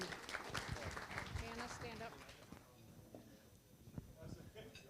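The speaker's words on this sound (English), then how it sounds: "Let's give him a big hand of applause," Faint, scattered applause from a club meeting audience fills the first couple of seconds, then gives way to quiet talking and room noise.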